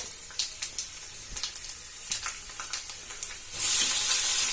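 Peanuts and curry leaves frying in oil in a kadhai, with scattered crackling pops that swell into a loud, continuous sizzle near the end.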